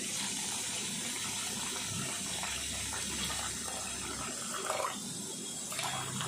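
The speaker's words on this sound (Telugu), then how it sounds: "ఇందులో వాటర్ వేయాలి." Water is poured into a bowl of jaggery, a soft, steady gushing and splashing heard close by and fairly quiet, with no talking over it.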